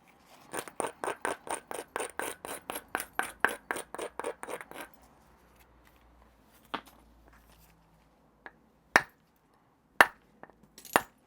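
A stone handaxe edge is abraded with sandstone in a quick run of about a dozen short, crisp scraping strokes, followed by a few isolated faint taps and scrapes, close and quiet.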